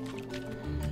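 An object dropped into water in Untitled Goose Game, making one brief, wet splash with a gurgling tail, over in about a second.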